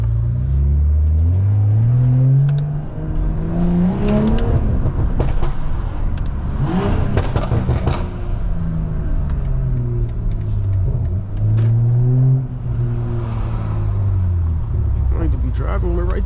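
A passing car with a burble exhaust tune rumbles loudly nearby on a downtown street, its engine revving and rising and falling as it goes by, with the low exhaust roar dominating throughout.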